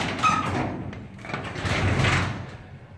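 A residential garage door is driven open by its electric opener, with a rumbling, rattling mechanical run that swells, dips, and rises again over a few seconds.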